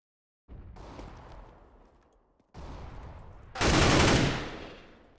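Flashbang grenade in a video game, following two bursts of gunfire, then a sudden loud, bright blast whose ringing roar swells and slowly fades.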